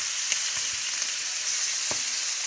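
Sliced onions frying with browned rabbit pieces in a pan, a dense steady sizzle close up with a few light clicks of stirring.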